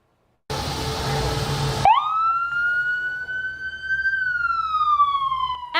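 Ambulance siren sounding steadily, loud and close, a clear wailing tone that rises then slowly sweeps, after a brief burst of broadband noise; the ambulance is one of those carrying medical students out into the community.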